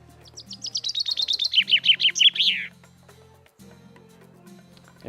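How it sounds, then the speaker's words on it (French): A bird sings a rapid trilling series of bright chirps, about a dozen notes rising to a flourish, then quiet with a low hum. "Et puis il y a toujours le chant des oiseaux,"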